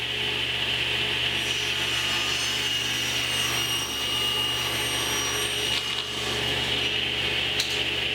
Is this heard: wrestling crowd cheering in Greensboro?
no